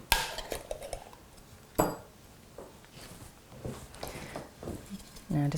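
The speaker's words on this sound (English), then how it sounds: "Now just give it a bit of a stir again, because shaking doesn't do the whole job." Wood paint being stirred in a freshly opened tin, giving soft scraping and clinking of the stirrer against the metal sides in an irregular rhythm, with a few sharper knocks, close and fairly quiet.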